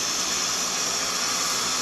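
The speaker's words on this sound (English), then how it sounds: "I just want to add a little touch of water into it just to steam them up a little bit." Water splashed into a hot pan of searing mushrooms sends up a steady, close, loud steam hiss with no voices over it.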